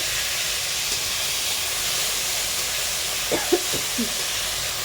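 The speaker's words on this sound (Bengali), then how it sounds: "আমরা এবার আমাদের কেটে রাখা টমেটোটা দিয়ে দেবো তেলের ভিতর" Chopped tomatoes dropped into hot oil for a tomato chutney hiss in a continuous, even sizzle, close and steady, with a few faint low stirring knocks near the end.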